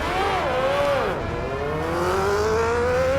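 An engine roars and revs on a road, its pitch dipping as it passes close by and then climbing steadily again in a continuous drone.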